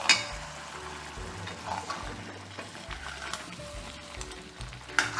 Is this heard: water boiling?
yes